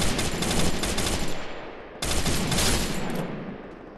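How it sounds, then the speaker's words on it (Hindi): Dense, continuous gunfire in the mobile shooter Garena Free Fire Max, rapid automatic bursts filling the scene loudly and without pause, briefly cutting out before resuming just as heavily. "सामने और फायरिंग की आवाज़ें आ रही हैं"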